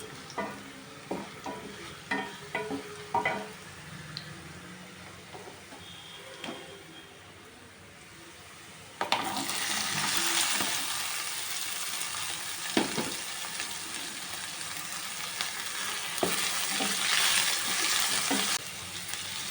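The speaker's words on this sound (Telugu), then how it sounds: "తాలింపు వేగింది కదా ఇందులో పొట్లకాయ ముక్కలు వేసేస్తున్నాం" Ridge gourd pieces dropped into hot tempering oil in a pan, first with scattered stirring taps, then a loud, steady broadband sizzle of frying that continues close up with occasional spatula knocks.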